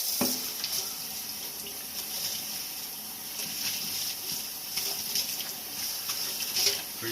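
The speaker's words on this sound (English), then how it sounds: "So we'll rinse them all out. Just hot water." Hot water runs steadily from a tap to rinse RC car bodies, a continuous close splashing hiss with small gurgles and no talking.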